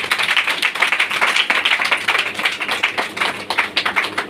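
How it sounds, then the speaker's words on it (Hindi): A congregation at a church service claps loudly in praise of God, producing a dense, steady burst of many hands applauding together for several seconds, close and without talk. "आइए हम जोरदार खुदा की तारीफ करते हुए ताली बजाएंगे।"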